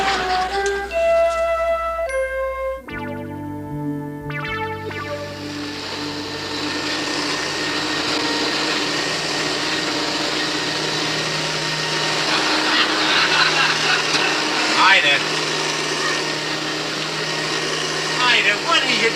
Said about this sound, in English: I'm vacuuming the rug.